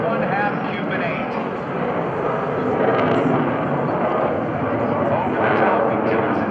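A loud, broad jet roar fills the air as an F/A-18C Hornet makes a pass on full afterburner at a naval air station airshow, the rumble sustained and swelling slightly throughout.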